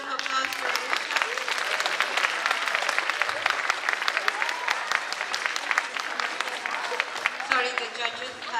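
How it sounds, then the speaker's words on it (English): Audience at a spelling bee giving a contestant a round of applause, steady clapping throughout with talk mixed in over it. "can we have a big round of applause for Rishabh?"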